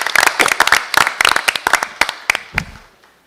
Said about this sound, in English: Round of applause for the soccer team.